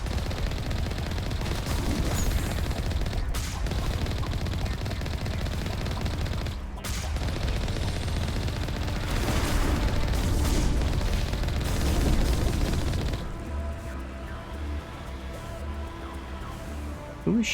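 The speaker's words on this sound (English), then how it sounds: "Who was shooting from back here?" Sustained gunfire in a Mass Effect firefight: rapid automatic bursts and booming impacts roll on loudly and almost continuously, then ease into a quieter, rumbling backdrop near the end.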